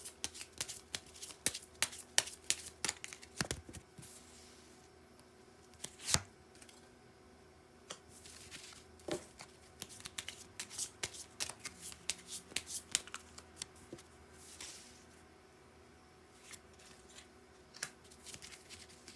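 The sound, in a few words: tarot cards being shuffled and drawn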